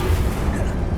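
In the Hogwarts Legacy video game, a Confringo spell detonates as a single short, deep, booming explosion with a rumbling low end.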